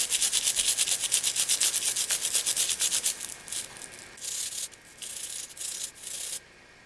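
Close, brisk scrubbing of a Game Boy Advance B button, a dense rhythmic rubbing that runs steadily at first, then breaks into shorter, separate bursts before stopping.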